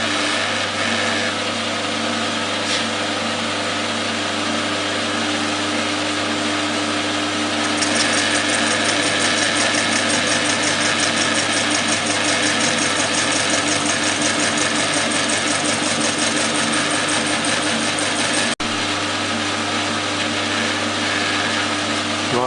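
A machine tool steadily cutting a brass ornamental flask's acrylic base, a continuous mid-pitched motor hum with a brighter grinding layer that rises partway through and runs on evenly, no talk.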